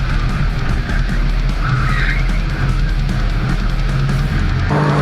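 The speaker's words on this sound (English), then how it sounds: "we just had a massive wreck" A massive wreck unfolds in a racing video game as engines drone and tires screech and skid in a continuous, loud clatter of crunching impacts, with no break in the noise.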